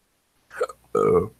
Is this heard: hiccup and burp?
yes